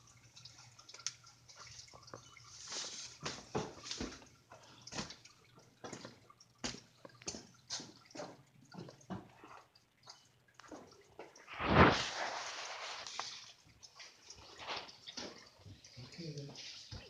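Engine oil drains from a 2012 Toyota Tundra with a 4.6 L engine during an oil change, a steady liquid trickle and splatter with a louder gush partway through, with occasional talk nearby.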